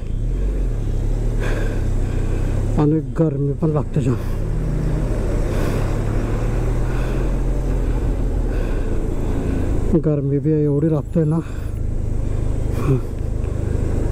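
Road traffic jam behind a broken-down bus: a steady low engine rumble of idling vehicles continues throughout, with people talking nearby at intervals.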